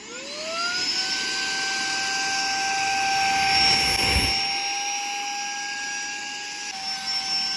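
A Saker vacuum cleaner with a brush nozzle fitted runs steadily and loudly, its high whining motor tone holding nearly level throughout with a brief surge of airflow noise near the middle.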